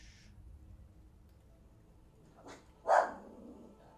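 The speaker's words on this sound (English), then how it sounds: "That is my dog." A dog barks in the background of a room, one short muffled bark followed by a louder, sharper one, fairly close and otherwise quiet.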